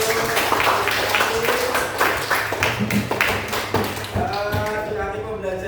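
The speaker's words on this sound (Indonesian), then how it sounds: "Oke, tepuk tangan untuk semuanya dulu." Classroom of children clapping together in a burst of applause lasting several seconds, dense overlapping claps near and loud, with a voice speaking over the end.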